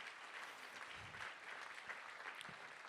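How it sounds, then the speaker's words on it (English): Audience at a mentoring celebration gala applauding, a continuous even patter of clapping heard faintly from a distance throughout. "And a big round of applause,"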